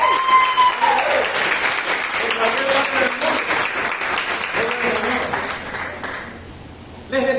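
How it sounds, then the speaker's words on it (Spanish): Church congregation applauding loudly for about six seconds, a dense steady wash of claps with some voices mixed in, fading briefly before a sharp burst of clapping resumes at the end. "¿Por qué no da un fuerte aplauso a los que nos miran?"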